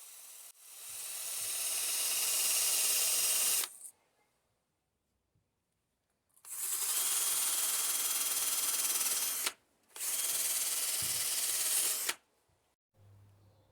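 A wire wheel grinds rust off a kit car's drive shaft in three long, loud, steady bursts of harsh hiss, with short quiet gaps between them and a faint low thump near the end.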